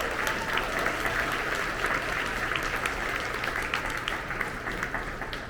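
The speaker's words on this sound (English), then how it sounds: "we want to give them a round of applause for their hard work" A crowded luncheon audience at an awards event applauds steadily, a dense wash of many hands clapping at an even level throughout with no voices over it.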